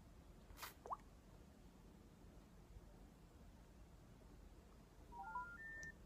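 A telephone dials a number, a quick run of short keypad beeps near the end over faint background hiss, with an earlier soft tap. No one speaks.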